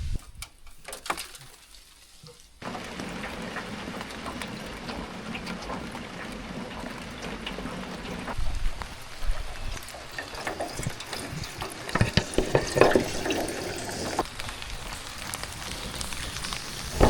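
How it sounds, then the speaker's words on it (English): Rain falls on a mini cabin with a rain catchment system, a steady hiss of drops on surfaces that starts after a quiet opening and continues with scattered louder patters. "There you go, guys. It's raining"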